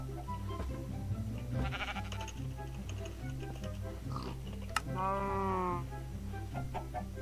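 A cow moos in a Minecraft-style video game as a drawn-out, wavering bleat-like call midway through, set against steady, layered game background tones and small scattered noises.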